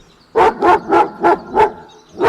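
An angry dog inside a car, fiercely threatening a man standing outside the window, lets out five loud, close barks in a steady rhythm, each a short, sharp burst separated by brief pauses.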